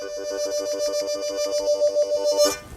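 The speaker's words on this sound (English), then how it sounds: "Now, tongue flutter sounds like this." A harmonica note played with tongue flutter in a steady, fast pulsing tremolo, close and fairly loud, ending with a brief breathy swell.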